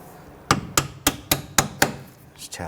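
Hammer tapping a part into place during rear strut replacement on a 1992-1996 Toyota Camry: six sharp metallic taps in steady rhythm, close and clear, followed by a couple of softer knocks, no talking.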